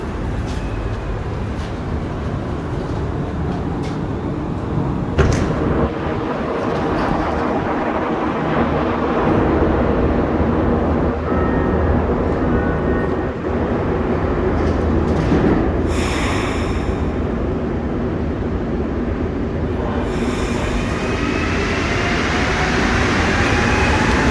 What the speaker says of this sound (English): might as well get a video of the train departing